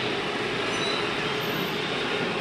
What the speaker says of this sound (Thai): โอ้รถไฟฟ้าวิ่งมาเลยท่านผู้ชม